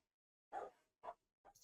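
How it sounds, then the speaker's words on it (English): Dogs bark in the background: three short, separate barks spaced about half a second apart, fairly faint and distant, with quiet between them. "If you hear dogs in the background, I'm sorry"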